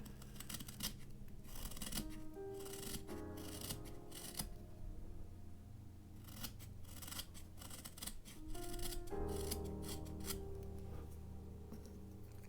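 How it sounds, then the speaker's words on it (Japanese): A carving knife scrapes and shaves wood on a Doraemon figure, with quiet rasping strokes in short bursts and brief pauses, soft and close. "表面からある程度削ったら次は裏面から削ります"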